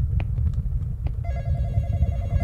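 A telephone rings in a horror video game, its steady ringing tone entering partway through and continuing over a low, constant rumble of background ambience.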